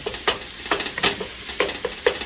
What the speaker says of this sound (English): right now this meat's going to brown a little bit more